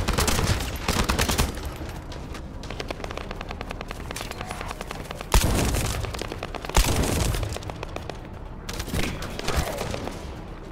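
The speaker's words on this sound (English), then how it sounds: "That stopped the gunfire." Rapid bursts of automatic gunfire in the video game The First Descendant rattle almost nonstop, loud and close, with a few heavier booming shots cutting through the barrage.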